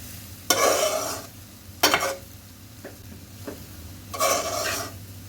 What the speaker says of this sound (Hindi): अच्छी तरह मिक्स करना है ताकि जो बटर, गार्लिक और ग्रीन अनियन, ब्लैक पेपर सारे जो हैं वो चावलों में अच्छी तरह से मिक्स हो जाए